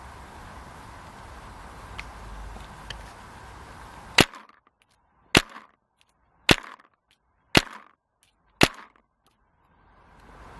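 Five sharp paintball marker shots from an unbranded 12-inch barrel, fired outdoors one at a time at roughly one-second intervals. Each crisp crack is followed by a brief tail, with quiet ambience between shots.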